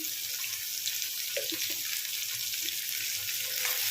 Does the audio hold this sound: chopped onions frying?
yes